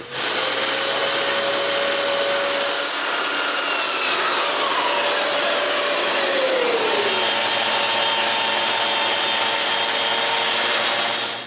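A power tool smoothing the rough, hand-cut wood surface of a workbench part, producing a loud, continuous whine whose pitch dips and drifts as it works across the wood.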